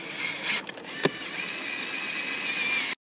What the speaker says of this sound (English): Pull back the rubber and replace the two Phillips head screws.